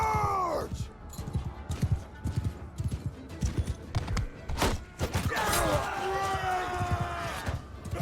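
Knights' horses galloping in a charge in Mount & Blade 2: Bannerlord, a rapid patter of hoofbeats and thuds with a horse whinny at the start and another later, a voice talking over the battle noise.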